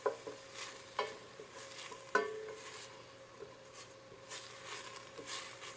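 Food browns in a pan over medium heat for Zuppa Toscana, a soft steady sizzle broken by a few sharp utensil clinks and scraping stirs against the pan, with no talking.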